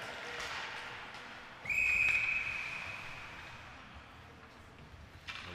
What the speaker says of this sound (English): A whistle for offsides there.